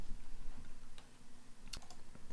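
Quick light key presses on a calculator while solving a calculus problem, a few scattered clicks and a short burst of taps, faint and close against a steady low hum.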